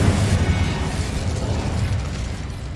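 Spell explosions from Confringo and Incendio in Hogwarts Legacy, a dense, rumbling blast with crackling bursts sustained throughout, loud and close.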